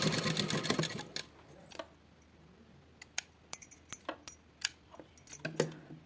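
A sewing machine stitches along a folded fabric edge during neckline tailoring, starting with a dense steady whir that stops, then a run of sharp metallic clicks and small clinks close by.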